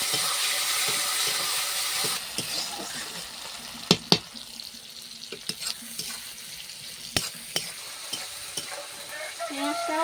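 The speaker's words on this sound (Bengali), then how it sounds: "পেঁয়াজ কুচি টমেটো কুচি ভালো করে এখন নাড়িয়ে নিলাম" Chopped onion and tomato sizzle in a hot pan while a utensil stirs and scrapes, with a few sharp clicks against the pan.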